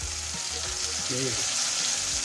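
Vegetables frying in a pan for a sweet and spicy hotdog dish, a close, steady sizzle of hot oil with light stirring scrapes, while a voice briefly speaks over it.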